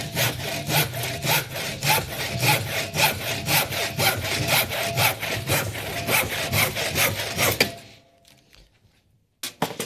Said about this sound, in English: Sawing sounds might be a bit loud for y'all.